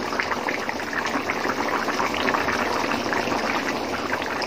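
Rui fish-head and moong dal murighonto simmering in a pot, a steady close bubbling and gentle sputtering throughout with no voices.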